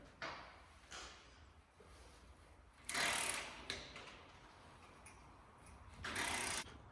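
A torque wrench ratchets as bolts are tightened to 110 foot-pounds in a crisscross pattern, giving several short bursts of clicking separated by pauses, close and moderately loud.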